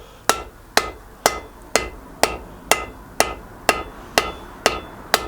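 A hammer strikes hot steel on an anvil while a medieval spear head is forged, ringing out about ten evenly spaced, loud, close blows.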